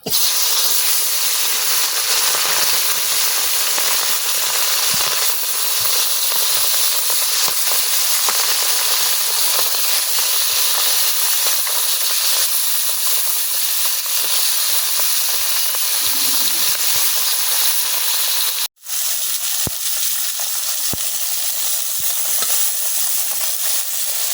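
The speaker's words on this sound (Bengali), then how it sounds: "তেলটা কিন্তু গরম হয়ে গেছে এখন আমি মাছগুলো দিয়ে লিয়াম" Fish fry in hot oil in a wok, giving a loud, continuous sizzling hiss that runs unbroken for over twenty seconds apart from one brief dropout near the end.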